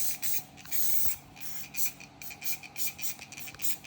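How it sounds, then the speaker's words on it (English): Several short bursts of olive oil spray onto salmon patties, close and hissing, repeated in quick succession with brief pauses between them. "give them all a little spray with some olive oil"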